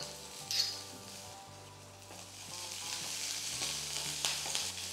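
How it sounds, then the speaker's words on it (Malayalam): Chopped onion with garlic, ginger and green chili sizzles steadily in hot oil in a pan, stirred now and then with soft scrapes, close and continuous with no talking. "ഉള്ളി ഒന്ന് വഴന്ന് സോഫ്റ്റ് ആവണം, അതുവരെ ഒന്ന് വഴറ്റിയെടുക്കാം"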